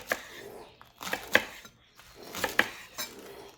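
A knife slices rolled collard greens into thin strips on a board, giving a handful of short, crisp cuts in uneven rhythm, close and moderately quiet.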